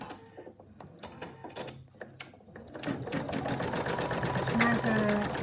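An embroidery machine stitches an in-the-hoop phone case, starting partway through with a rapid, steady mechanical chatter that grows louder and busier after a quieter stretch with some talk.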